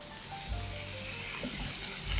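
Peppercorns sizzle in hot oil while tempering it for shakshuka, a steady close crackling fry with a soft low rumble underneath and no speech.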